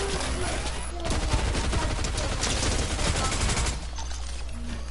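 Rapid assault rifle fire from the video game Fortnite, dense and loud bursts running almost continuously for several seconds before easing off near the end.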